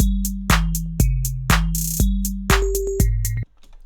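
Short synthesized drum notes made with a scroll-in technique in Ableton hit in a regular pattern about twice a second, each a punchy low thump with a quick decay, shifting pitch near the end before cutting off abruptly.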